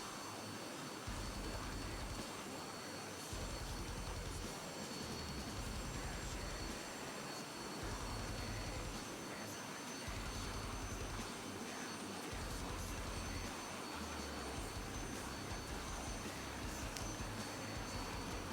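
A SAAB AJS 37 Viggen jet in the DCS flight simulator flies low over a coastline, its engine producing a steady, loud broadband roar with a pulsing low rumble that holds throughout.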